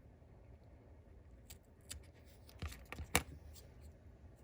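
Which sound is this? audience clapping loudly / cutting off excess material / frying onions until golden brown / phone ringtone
cutting off excess material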